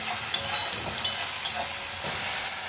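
Garlic paste frying and being stirred in a pan while cooking ghugni, a soft steady sizzle and hiss with a few light scraping stirs, faint and alone.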